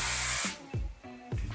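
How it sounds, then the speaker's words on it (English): Pantene Pro V Ice Shine hair spray releases one loud, close hiss lasting about half a second, then stops, followed by quieter handling sounds. "just for some extra shine, I'm going to use my Ice Shine Spray by Pantene Pro V"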